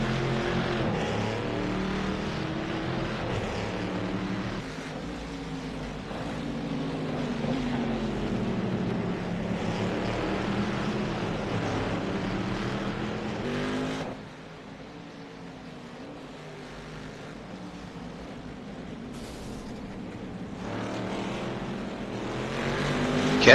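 Race cars roar around a track, two teammates running close together, a sustained engine drone that swells and fades as they pass, heard from a distance with a sharp drop midway.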